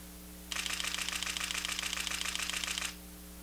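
A rapid, continuous burst of Nikon D300s camera shutter clicks, around seven per second, fires for over two seconds, then stops, heard alone against a faint steady hum.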